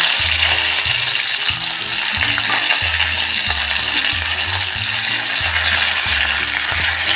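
Cumin, garlic cloves, green chili and curry leaves fry in hot oil with a loud, dense, continuous sizzle, over a low rhythmic pulsing of background music.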